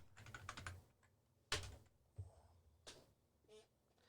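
Soft clicks and taps from a computer keyboard arrive in short bursts with pauses between them, faint and close.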